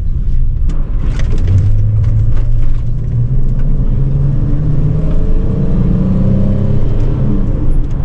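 Vehicle towing a trailer loaded with hay cart axles, mini bike parts and lumber, a loud steady road rumble and engine drone heard from inside throughout, with occasional clatter early on.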